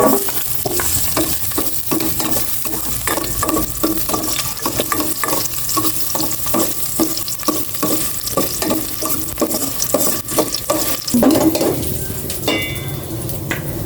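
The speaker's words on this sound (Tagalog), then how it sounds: "Mainit na ang kasero lang may mantika. Igisa ko na itong luya." Sliced ginger sautéing in hot oil in a pan, a steady close sizzle with a regular rhythm of stirring scrapes, louder spitting bursts near the end.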